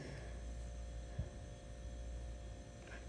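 Steady low refrigerator hum inside a home kitchen in Jeddah, continuous and even throughout, faint and alone with no talk over it.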